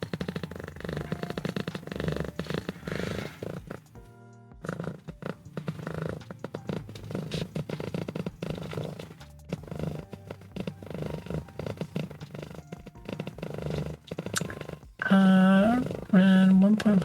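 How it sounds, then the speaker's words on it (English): A cat purrs in steady rapid pulses close to the microphone, a soft rumbling throb that keeps going for many seconds, with a brief higher tonal sound near the end. "in real time, Nova's just purring way faster"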